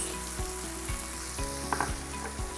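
Food sizzling steadily in a hot pan with soft scraping and stirring taps of a utensil, close and continuous, no voices, while cooking çoban kavurma with chopped tomatoes.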